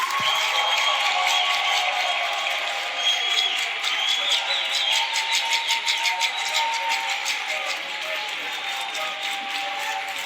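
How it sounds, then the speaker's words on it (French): Dense, sustained audience applause for Ray Malango fills the whole stretch, loud and steady with crowd cheering and noise mixed in. "On va écouter les applaudissements du public pour Ray Malango."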